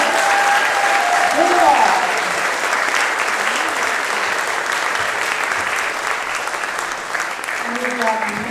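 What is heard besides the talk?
audience clapping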